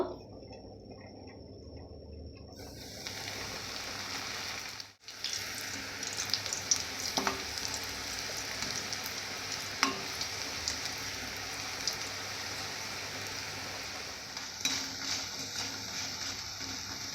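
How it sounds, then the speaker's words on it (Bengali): Okra popcorn fries in batches in hot oil in a wok, giving a soft continuous bubbling sizzle with a brief gap and a few faint clinks, steady and unaccompanied by speech. "পপকর্নগুলো অল্প অল্প করে ভেজে নেব"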